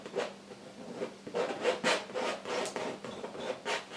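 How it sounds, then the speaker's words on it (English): Brush being scraped to remove excess oil paint, a series of soft, rasping rubs in an irregular rhythm, close and fairly quiet with no talking. "scrape off as much of that paint as you can"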